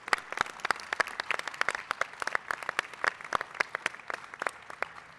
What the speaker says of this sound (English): So if you can give them as well a big round of applause